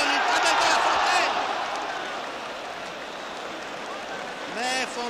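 Football stadium crowd at a 1959 France versus Spain international friendly applauding a fine pass by Kopa, a broad, steady wash of clapping and crowd noise that swells early and then settles into a sustained murmur under a commentator's voice.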